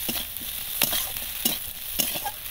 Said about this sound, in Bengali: পেঁয়াজ আর কাঁচা লঙ্কা একটু ভেজে নেব।